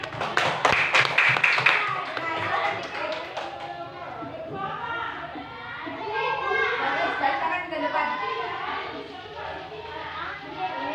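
Primary school children in a classroom clap for a classmate, a burst of quick crisp hand claps at the start that soon gives way to lively children's chatter and a teacher's voice.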